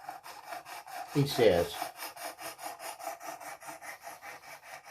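A knife blade drawn across the abrasive of a Worksharp precision sharpening system makes rhythmic, evenly spaced rasping strokes, with a brief louder scrape and a short spoken phrase near the start.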